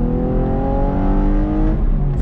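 A 2020 Chevy Camaro RS 1LE with a 3.6 liter V6 pulls on throttle, a loud, close engine drone rising steadily in pitch.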